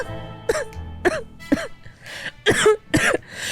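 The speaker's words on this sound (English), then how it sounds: "Ted keeps coughing and he needs water" A character in the survival video game 60 Seconds Reatomized coughs in a series of about six close, harsh throaty bursts with short gaps between them.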